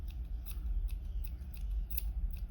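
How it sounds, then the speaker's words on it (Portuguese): Sharp scissors snip through yarn threads to trim a crochet pompom, about six quick crisp cuts in a steady rhythm, close up over a low background hum. "Tem que ser uma tesoura bem afiada, tá? Pra poder cortar esses fiozinhos aqui."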